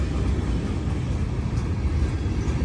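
A long Norfolk Southern freight train of over 100 cars rumbles steadily past a three-track railroad crossing, a continuous close, heavy low roar with no break.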